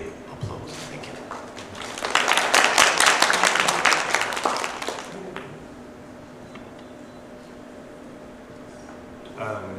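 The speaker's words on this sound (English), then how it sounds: "Please welcome him with a big applause." Audience applause welcoming a speaker at a conference in a grand ballroom, swelling to a loud, dense burst of clapping for a few seconds before fading, with faint room murmur afterward.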